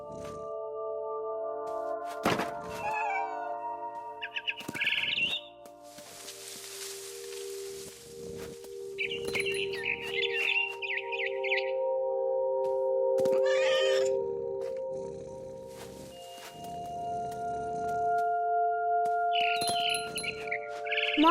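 In What Remains of Edith Finch, a cat's meows and cries sound repeatedly among bird chirps and rustling, with scattered tonal game sounds in between, fairly close and clear.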